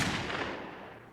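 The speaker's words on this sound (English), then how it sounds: "when Hinckley shoots at Reagan, we get the gunshot and then the buzzer to indicate that he missed" A single gunshot sound effect from a musical cast recording, a sharp loud crack that decays over about a second with a fading rumble, heard alone.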